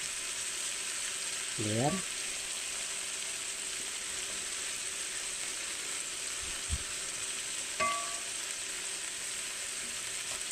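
Chicken and plenty of garlic sizzle steadily in a pan, a constant frying hiss with a brief voiced sound early on and a couple of small utensil clicks.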